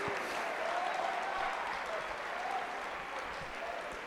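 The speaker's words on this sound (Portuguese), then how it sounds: "Olha, até aplaudiram." An audience inside a church claps after a testimony, a loud sustained ripple of applause filling the whole few seconds without speech over it.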